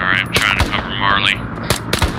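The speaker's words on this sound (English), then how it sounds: "That sounded like a missile." Gunfire and a heavy blast in a combat video game set in Hue, with dense rapid shots and a booming impact like a missile strike, close and loud, with voices talking over the fighting.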